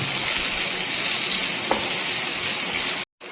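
Sliced onions with salt sauté in a pan for chicken curry, making a loud, close, continuous sizzle with a faint stirring scrape. The sound cuts out briefly near the end.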